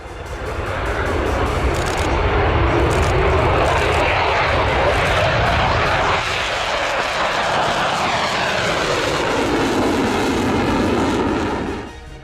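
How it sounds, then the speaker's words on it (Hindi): A loud, sustained roar from Russian fighter jets during the war in Ukraine rumbles throughout, a powerful engine passing overhead and swelling before slowly fading at the end. "गरजते रहे रूस के फाइटर जेट्स।"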